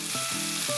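Goat meat frying in a pan gives a loud, steady sizzle close by, with a faint tonal hum underneath and no voices.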